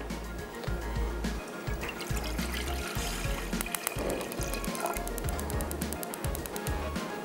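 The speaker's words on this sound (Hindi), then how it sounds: "पहले तो रखते हैं यहाँ पे डबल बॉयलर, मतलब एक पतीली के अंदर पानी डाल के रखते हैं" Water is poured into a cooking pot to set up a double boiler, a steady splashing, filling sound heard close up throughout, with faint background noise.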